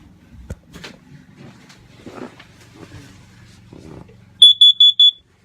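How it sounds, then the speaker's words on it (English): Quiet knocks and shuffling, then four loud, evenly spaced high-pitched alarm beeps near the end. "there's a fire alarm going off or something"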